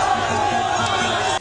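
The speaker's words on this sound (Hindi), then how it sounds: "हर जगह की तरह यहां भी मोदी मोदी के नारे लगे" A large, dense crowd in Bhubaneswar, Odisha roars and chants slogans, loud and continuous, with no clear breaks.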